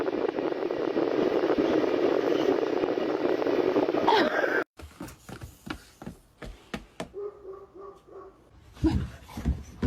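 A boxer dog barks and whimpers at close range. A steady loud noise plays first, then short yips, whines and barks come in uneven bursts, ending with a louder cry.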